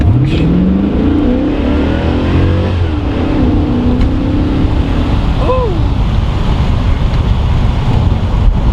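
A sports car with traction control off drives on a road in Mexico, its engine revving and rising in pitch under heavy wind noise throughout.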